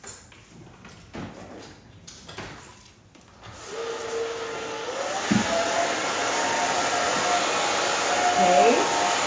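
A hair dryer blowing on a section of hair during a haircut, starting quietly under handling noise and then turning into a steady loud whooshing hiss that runs to the end.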